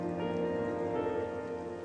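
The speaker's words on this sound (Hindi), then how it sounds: "कितनी तेज बारिश हो रही है।" Heavy rain pours in a steady, dense hiss, with a faint tonal hum running underneath the whole time.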